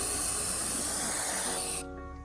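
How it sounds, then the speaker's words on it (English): Cleaner sprays onto the braking surface of a bike brake rotor in one sustained, close, loud hiss that cuts off sharply near the end. "So what you want to do is you want to spray on the braking surface."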